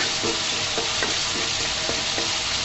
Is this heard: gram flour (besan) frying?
yes